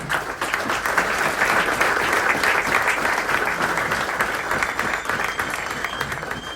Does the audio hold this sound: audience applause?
yes